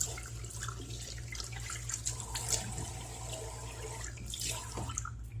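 Water runs steadily from a tap into a sink nearby while rinsing a Merkur Bakelite safety razor, with splashing and a low hum underneath.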